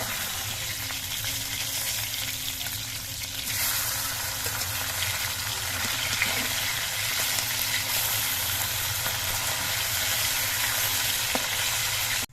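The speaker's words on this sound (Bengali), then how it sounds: "মাছগুলোর এক পিট ভাজা হয়ে গেছে এবার মাছগুলো আমি উল্টে নিচ্ছি" Pabda fish frying in oil in a pan, being turned over after one side has browned. A dense, even sizzle and crackle carries on close and steady the whole time, with no voices.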